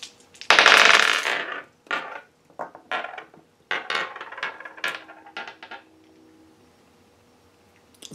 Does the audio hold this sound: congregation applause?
no